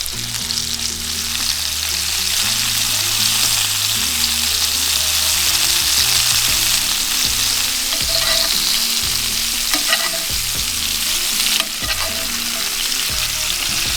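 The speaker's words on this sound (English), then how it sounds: "the Pukeko quite simply gets fried as you would a steak" Pukeko meat sizzles steadily in a hot frying pan, cooked like a steak, a loud continuous hiss and crackle over quiet background music, with no talk.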